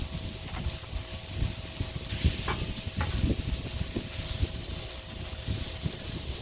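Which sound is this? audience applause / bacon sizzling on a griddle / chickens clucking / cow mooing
bacon sizzling on a griddle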